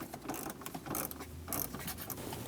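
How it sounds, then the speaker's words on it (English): A 10mm socket wrench ratchets as it loosens the positive battery terminal on a 2011-2023 Dodge Durango, giving a close run of quick metallic clicks in short bursts with no talking. "Using a 10mm socket, we're going to loosen the positive terminal."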